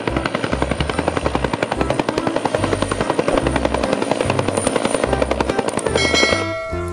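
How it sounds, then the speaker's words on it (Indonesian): A helicopter's rotor beats in a fast, steady rhythmic chop, loud and close, over a continuous engine whine that holds for several seconds. "Wih, lihat, ada helikopter."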